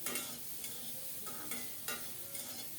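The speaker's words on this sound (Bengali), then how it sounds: "নেড়ে চেড়ে খুব সুন্দর মতো কপিটাকে লাল লাল করে ভেজে নেব" Cauliflower florets tossed with a little turmeric and stirred in a frying pan, a soft steady sizzle broken by several sharp scraping strokes of the spatula at a regular pace, close up with no one talking.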